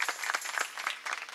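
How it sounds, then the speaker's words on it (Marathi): An audience at a kirtan claps loudly for Mauli, a young mridang player, producing a dense, continuous stream of overlapping hand claps throughout. "माऊली दादा करता एकदा चांगली टाळी वाजवा."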